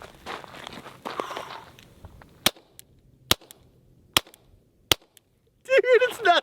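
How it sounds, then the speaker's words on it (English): Four sharp, evenly spaced suppressed pistol shots from a Springfield Hellcat RDP fitted with an Obsidian 9 suppressor ring out close by as distinct cracks, with shuffling and muffled talk before them and a voice cutting in at the end. "we had to throw on the rugged Obsidian 9 and have a little suppressed fun"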